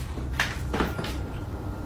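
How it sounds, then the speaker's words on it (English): A door creaks and bumps open in two quick close scrapes, then the room falls to a quiet low hum with no voices. "Something opens that door"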